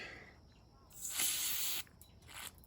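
Aerosol cleaner hisses onto a banjo bolt from a Volvo S80 PCV oil trap, one long close spray followed by a shorter burst, with no talking.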